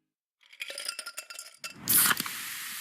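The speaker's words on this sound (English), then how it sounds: "You hear that? That's the sound of Pepsi Zero Sugar," A can of Pepsi Zero Sugar cola clinks and rattles up close, then cracks open with a sharp fizzing hiss that settles into a steady pour into a glass.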